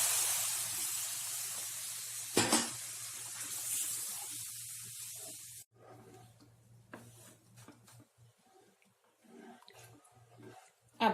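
Sugar syrup poured slowly into semolina roasting in ghee for suji halwa, giving a loud sizzling hiss for several seconds, a sharp burst partway through, then quieter, broken crackling and sputtering.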